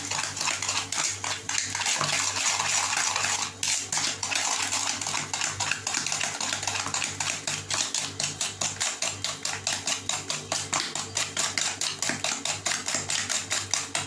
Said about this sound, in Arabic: انا طربوها بالمعلقه